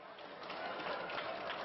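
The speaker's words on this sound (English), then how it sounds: "can you start clapping so I know you've seen it?" An audience at a family fair claps together, a faint, distant, continuous patter of many hands that swells slightly, with a little crowd murmur underneath.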